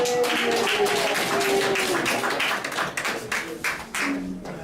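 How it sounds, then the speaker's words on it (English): Children in a classroom in Ghana clap their hands together in a steady, busy round of applause that fades unevenly toward the end, with some voices faintly underneath. "give her a hand clap"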